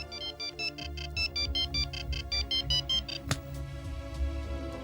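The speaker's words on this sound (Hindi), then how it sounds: "उसके पास ये कीबोर्ड 22 मोबाइल फोन है, जिसका रिंगर कुछ इस प्रकार है।" Keypad mobile phone ringtone playing a quick repeating electronic melody of short bright beeps in pulsing bursts, fairly close, followed by a sharp click and a quieter tail.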